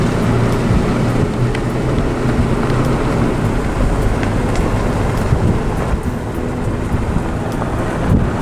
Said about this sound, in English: We just started out and the rain started.